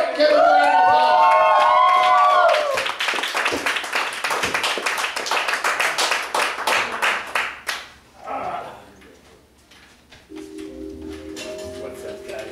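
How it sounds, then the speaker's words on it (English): A crowd applauds and cheers for a performer called the Naked Poet on a stage. Loud voices and whoops blend with dense clapping that fades after about eight seconds, leaving quieter murmuring and some talk. "Give him a round of applause."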